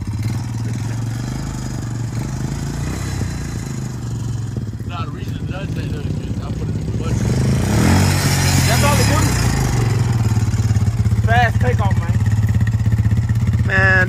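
A motorcycle engine idles, then revs up loud and close in rising bursts, with people talking and shouting over it.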